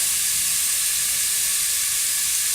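Onion frying in a pan with butter, a steady, close sizzling hiss that runs unbroken and evenly loud throughout, with no voices over it.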